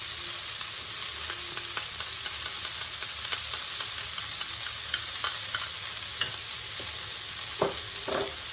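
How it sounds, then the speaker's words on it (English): Mayonnaise and sour cream stirred together in a small bowl, a steady soft scraping and wet mixing with occasional sharper clicks of the utensil against the bowl, close and without talk. "You stir it up in your little bowl"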